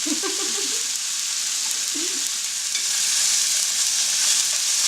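Chicken pieces browning for teriyaki in a hot pan give a steady, loud broadband sizzle throughout, with a few brief stirring scrapes near the start.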